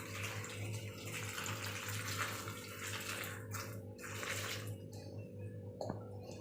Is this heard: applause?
no